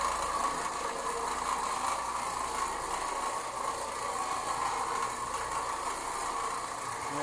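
An Oreck Orbiter floor machine scrubbing the floor of a mobile home, making a steady, continuous motor drone with a broad whirring hum that holds an even level throughout.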